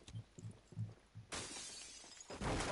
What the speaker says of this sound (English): Someone's breaking some shit next to him.